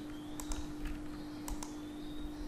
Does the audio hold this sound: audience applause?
no